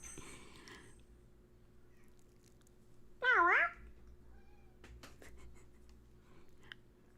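A pet cat named Gertie lets out one loud, drawn-out meow close by in a quiet room, with faint bell jingles and small rustles around it.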